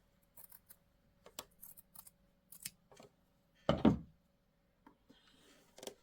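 Scissors snip through light-colored quilt binding fabric in a series of short, crisp cuts close by, with soft handling sounds between snips and no talking.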